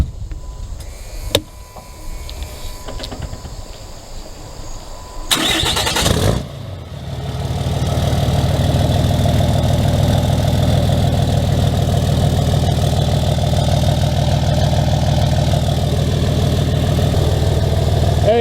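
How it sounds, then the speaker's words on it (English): A 2008 Dodge Cummins 3500 turbo diesel pickup cranks briefly, fires up and settles into a loud, steady rumbling idle that carries on with no talk over it. "So he's gonna give you a quick startup right now."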